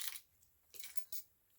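A bunch of keys handled and jingling, two or three short, faint metallic clinking bursts close by in a quiet room.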